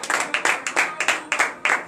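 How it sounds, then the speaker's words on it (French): A church congregation at a morning prayer service in Benin claps in a lively rhythm, roughly seven sharp, close-miked bursts in quick succession after the prayer. "Donnez de vive acclamation à l'Éternel"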